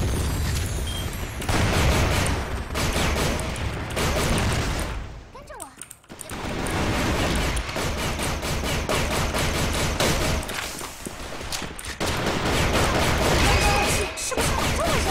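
Rapid AA12 shotgun blasts from CrossFire fill a dense, loud stretch of battle in a search-and-destroy round, with bursts of crashing fire nearly throughout, a brief lull midway, and a voice talking over the shooting.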